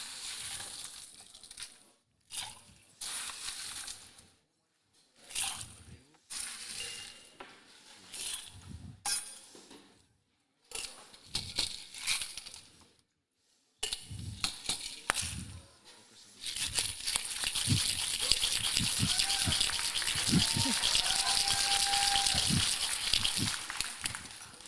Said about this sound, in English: I want to give it a nice hard shake first